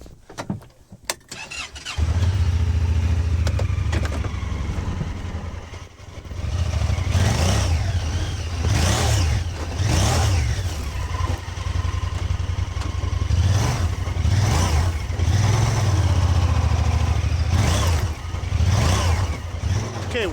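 A big farm tractor hooked to a Great Plains drill in a field, its engine starting with a clatter, then loud repeated revving surges and wheel spin close by.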